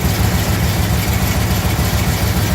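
A 1981 Ram pickup's 360 V8 with a Wolverine racing cam idles after a cold start in snow, a steady loud low rumble with a slightly lumpy pulse throughout, no talking.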